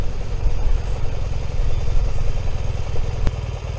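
A BMW R1200GS motorcycle engine idling close by with a steady low throb, winding down before its exhaust valve closes; a brief sharp click or knock stands out near the end.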